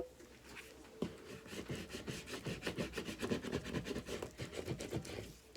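A small squeegee rubs and scrapes in quick repeated strokes across contact paper laid over a decal on a custom rolling tray, a soft close scratching rhythm with no voices.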